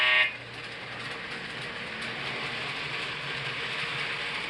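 Model train moving back into a side track, a soft steady running whir after a brief short tone at the start, continuing evenly and quietly.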